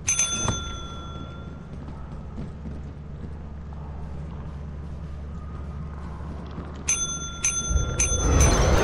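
Counter bell in a video game, rung in a quick burst of bright metallic dings near the end after a long stretch of quiet background hum, with a brief ding at the start.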